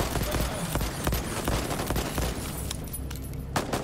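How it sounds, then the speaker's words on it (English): Rapid gunfire bursts from the Voidtrain video game, crackling continuously through the whole stretch at steady loudness, with a voice speaking over the shooting. "Stop shooting me."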